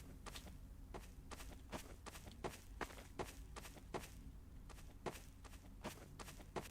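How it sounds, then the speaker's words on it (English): Footsteps crossing a cornfield map in a video game, a steady rhythmic series of crisp, rustling steps at walking pace, fairly close and alone. "Are the footsteps too loud?"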